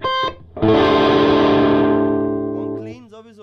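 An electric guitar chord rings out through a Meddle amp with heavy distortion, a short stab followed by a loud sustained chord that slowly decays over about three seconds, with no talking.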